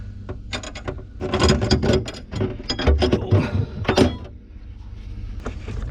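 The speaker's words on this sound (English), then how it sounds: "This is like a distributor wrench." A slim distributor wrench works on a fitting of an RV's Aqua Hot heating system, producing close, irregular metallic clicks and ratcheting scrapes in uneven bursts, busiest in the middle and tapering at the end.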